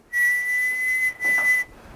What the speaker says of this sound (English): Say I whistle 1 kilohertz frequency